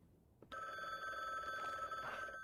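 Doorbell in an indie game demo rings after a brief knock-like click, then holds as a steady, tonal electronic ring at moderate volume until the end.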